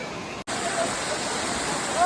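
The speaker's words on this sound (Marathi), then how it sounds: "इथं धबधबे आले रे" A waterfall on a hillside outing gives a steady broadband rushing roar, loud and continuous after a brief cut near the start, with a faint voice underneath.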